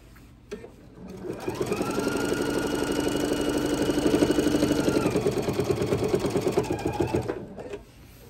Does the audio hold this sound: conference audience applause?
no